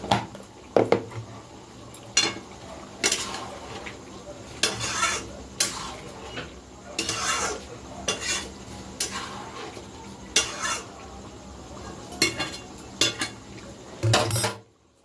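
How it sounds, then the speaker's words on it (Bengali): Meat is stirred and browned in a pot with a spoon or ladle, giving irregular scraping and clinking strokes over a soft sizzle, fairly close, with no talk. "আবার আরেকটু জল দিয়ে মাংসটা আর একটু কষিয়ে নিচ্ছে"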